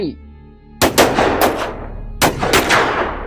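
Two sharp bursts of gunfire ring out, each a quick cluster of loud shots with echoing tails, separated by a brief pause.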